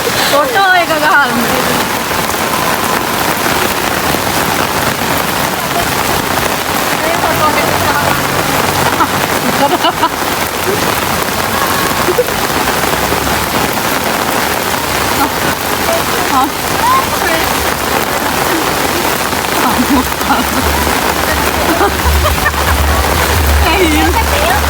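Heavy rain pours down steadily on a campus as students dance in it, a dense close hiss of drops on surfaces throughout, with people talking over it and a low rumble near the end.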